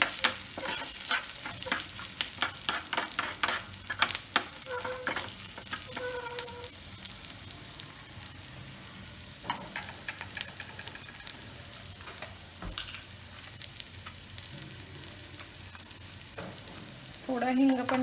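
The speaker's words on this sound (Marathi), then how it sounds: "सगळं लाल होईपर्यंत आपल्याला ते परतून घ्यायचंय." Food sizzles in a pan on a gas stove while a spoon stirs and scrapes it, a steady close frying hiss with light clinks throughout.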